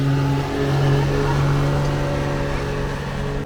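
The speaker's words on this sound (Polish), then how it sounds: "Zobacz, skuterek jedzie." A snowmobile drives along a groomed ski slope at Kotelnica Białczańska in Białka Tatrzańska, its engine a steady mid-pitched drone that holds at a constant loud level through the whole stretch.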